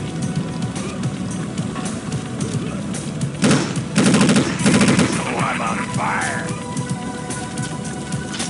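Gunfire in Unreal Tournament 2004, with a steady backdrop of game noise and action broken by bursts of rapid automatic shots and heavy thumps in the middle, fairly loud.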